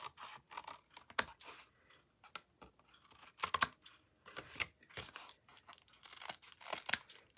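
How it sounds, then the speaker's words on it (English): Scissors snipping through card in a series of short, crisp cuts with brief pauses between, close and fairly quiet. "bring in our scissors, and trim that excess off"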